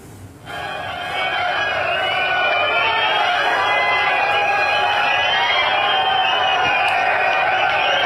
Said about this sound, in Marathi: सभागृहात उपस्थित असलेल्या शेतकऱ्यांनी मोठा जल्लोष केला आणि या घोषणेचं स्वागत केलं